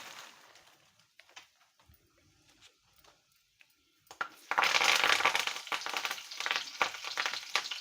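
Cloves, cinnamon and fresh curry leaves dropped into hot oil burst into loud, crackling sizzling, after a few seconds of quieter light clinks.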